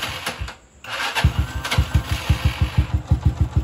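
A Honda XRM110 motorcycle fitted with a kill switch cuts out briefly, then its engine runs again with a loud, close, steady chugging beat of regular thumps.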